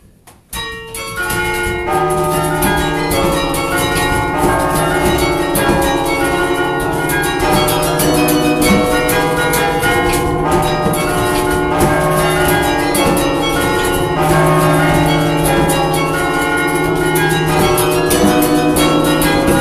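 Carillon bells playing a song at a concert, loud, rich overlapping bell tones ringing out a continuous melody with long sustained resonance.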